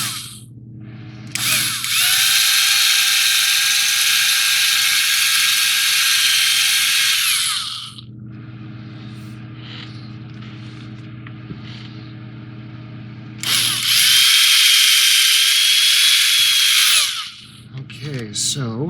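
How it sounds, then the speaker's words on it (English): A power drill bores into a Halloween pumpkin in two loud, sustained runs of several seconds each, separated by a quieter pause with faint handling noise. "I actually never drilled a pumpkin before."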